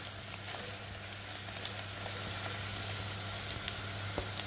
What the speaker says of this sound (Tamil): பீட்ரூட் வதங்கிட்டு இருக்கு